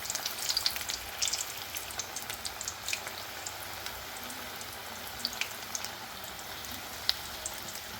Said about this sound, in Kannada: ಮಿಕ್ಸ್ ಮಾಡ್ಕೊಂಡು ಎಣ್ಣೆಯಾಗ ಬಿಡ್ತೀನಿ ನೋಡ್ರಿ